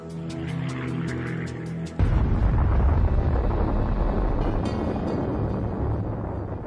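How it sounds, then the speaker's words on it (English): A deep, sustained roaring rumble from the atomic bomb blast over Nagasaki surges in abruptly after a held musical tone and then rolls on loudly and continuously. "Nearby in POW Camp 17, Lester Tenney sees the explosion"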